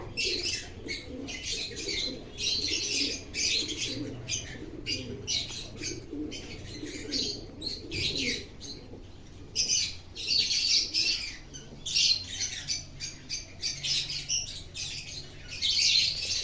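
Shiraz pigeons in a loft, a steady mix of chirps, squawks and soft coos from several birds close by, continuing throughout with brief quieter gaps.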